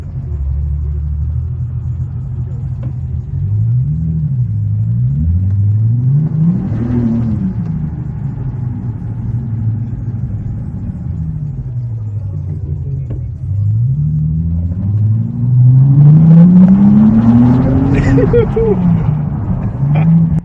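A powerful car accelerating hard around a garage, with a deep engine rumble rising and falling through repeated rev swells and gear changes, loud and close, ending in a stronger, higher-pitched pull.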